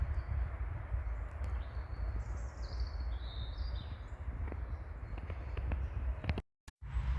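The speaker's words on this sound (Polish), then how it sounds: "Możemy teraz usłyszeć różne gatunki ptaków." Several bird species sing in a spring forest, their calls thin and distant over a steady low outdoor rumble, with the sound briefly cutting out near the end.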